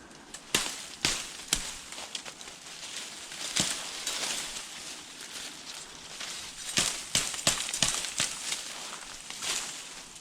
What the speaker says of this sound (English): So we're chopping out all the side branches while it's still attached, because it's a lot easier that way.